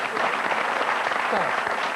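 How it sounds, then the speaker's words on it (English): A studio audience at a 1990s television talk show claps steadily in a dense, continuous wash while a speaking voice cuts in over the applause. "What are you clapping for?"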